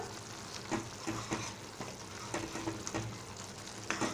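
A Malvani-style tomato curry simmers in a pot while a ladle stirs it, making a soft, steady bubbling sizzle with periodic scraping strokes, fairly quiet and close.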